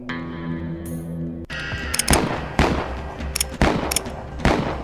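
Repeated gunshots in the Western video game Westerado: Double Barreled, several sharp reports spaced apart over a background music track, loud and close.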